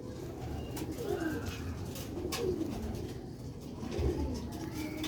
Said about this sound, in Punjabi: ਵੇਖੋ ਮਾਸ਼ਾਅੱਲਾ ਸਿਆਲਕੋਟੀ ਬਟੇਰਾ ਕਬੂਤਰ